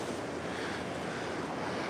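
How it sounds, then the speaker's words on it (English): Ocean waves break on the beach at Moolack Beach on the Oregon coast, a continuous broadband wash of surf mixed with wind, steady and loud with no voices. "Nice waves today."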